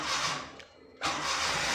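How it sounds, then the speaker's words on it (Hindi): A car engine turns over and catches after the clutch is pressed. A hissing idle drops away briefly, then a loud, steady running noise resumes, with no talk. "चलो क्लच दबा के इंजन ऑन करो"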